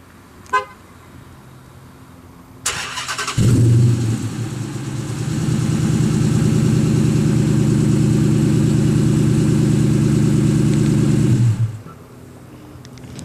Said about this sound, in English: I think that loud exhaust on a Hemi V8 is just kind of one of those things that's necessary